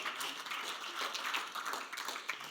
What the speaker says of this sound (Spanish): Porque vamos, dale un aplauso al Señor.